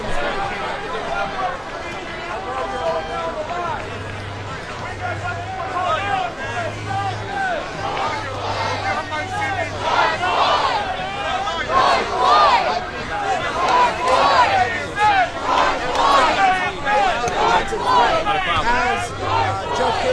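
Outdoor crowd at the Derek Chauvin guilty verdict, with many voices chanting and cheering in rising and falling waves and excited shouts and babble close by, and a voice talking over it.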